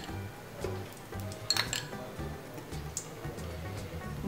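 A metal pot is set down on a stove for cooking clam rice, giving a few faint, scattered metallic clinks and one sharper clank in a quiet kitchen.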